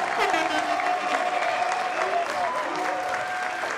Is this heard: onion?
no